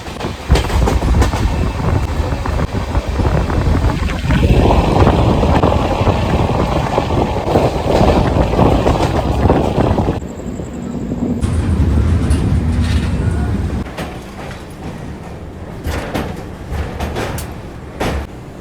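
Sealdah Humsafar Express running at high speed at night, heard from on board: a loud continuous roar with rattling and clickety-clack from the wheels, swelling and shifting as it passes through stations, with a brief tonal whine midway.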